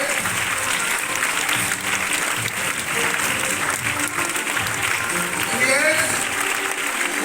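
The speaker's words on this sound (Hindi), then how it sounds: "एक बार जोरदार तालियां प्रताप जी के लिए" A crowd at a recognition ceremony gives loud applause for an award recipient, continuous dense clapping that stays strong throughout, with voices and background sound mixed in.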